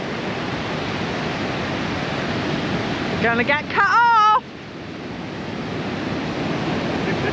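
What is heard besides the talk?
ocean waves breaking on the shore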